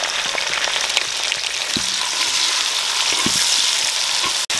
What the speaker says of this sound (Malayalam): ഇത് നന്നായിട്ട് ഒരു ബ്രൗൺ കളറാവണം കേട്ടോ, അതുവരെ നമ്മളിതിൽ വഴറ്റിക്കൊണ്ടിരിക്കും.